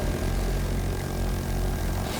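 A helicopter flies overhead in the Battlefield 2042 video game, a steady, loud rotor-and-engine drone that holds constant with no speech over it.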